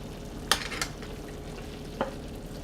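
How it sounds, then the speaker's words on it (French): Grilled chicken drumsticks in sauce simmering on low heat, a faint steady sizzle and bubbling with a few brief stirring clinks, close and quiet, without talk. "Et puis après on va diminuer le feu, vraiment feu doux. Et on laisse mijoter 20 minutes à une demi-heure maximum."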